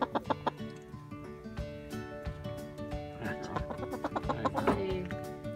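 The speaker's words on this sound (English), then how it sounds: "she's still a good chicken" A broody hen sitting on eggs clucks in low, repeated grunting bursts close by, with rustling and knocking noises scattered through and occasional louder sharp sounds.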